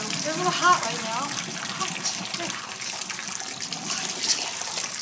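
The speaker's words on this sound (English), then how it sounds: "we'll go over to the sink and drain them" Boiled potatoes being drained in a kitchen sink, a steady rush of pouring water and splashing running throughout, with a person talking over it.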